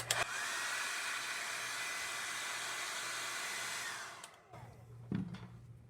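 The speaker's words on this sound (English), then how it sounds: "the key to this is just repeating the heat with the blow dryer" A hair dryer heating a sticker on a book blows steadily and loudly for about four seconds, then cuts off, followed by brief handling clicks and rustles.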